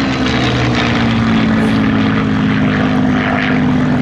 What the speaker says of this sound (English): Coming in from the right, Ben flying this aircraft majestically.